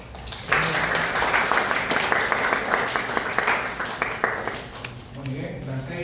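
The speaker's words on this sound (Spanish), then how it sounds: "un fuerte aplauso" Students in an economics class give a strong round of applause, a dense patter of clapping that starts abruptly, holds for several seconds, then tapers off as a voice returns.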